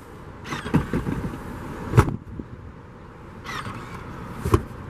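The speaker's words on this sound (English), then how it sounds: "From this, you can drop the rear seat, just press." Rear seat of a 2018 Volvo XC60 T6 R-Design folds down at the press of a button, giving a couple of soft mechanical thumps and clunks over a low steady background hum.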